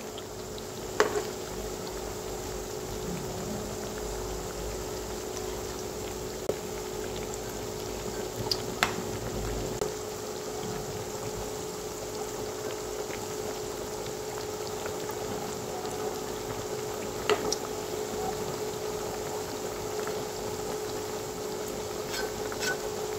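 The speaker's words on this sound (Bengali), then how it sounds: "এপিট ওপিট করে সুন্দরভাবে ভেজে নেব।" Banana flower fritters (mochar bora) frying in heated oil in a home kitchen, a steady, even bubbling sizzle with a faint low hum underneath and a few small clicks, and no talking.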